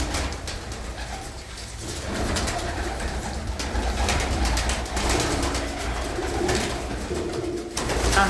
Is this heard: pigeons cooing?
yes